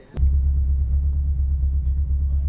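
A tuned car engine turns over and settles into a deep, loud, steady rumbling idle close by.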